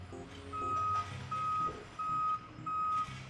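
A truck backing up, its reversing alarm giving four steady, evenly spaced high beeps over a low engine rumble at moderate distance.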